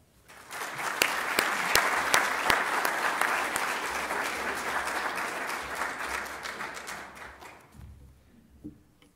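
Sustained audience applause at a climate change conference opening, welcoming a minister to the lectern: dense steady clapping for about seven seconds, then fading out to a couple of stray claps.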